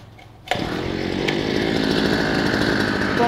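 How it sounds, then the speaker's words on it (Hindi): A repaired Stihl two-stroke machine fires up after a quiet moment and settles into a loud, steady buzzing idle close by, with a brief throttle blip partway through. "अभी मैं इसको स्टार्ट करता हूँ और स्टार्ट करके देखते हैं कि इसका साउंड कैसा है"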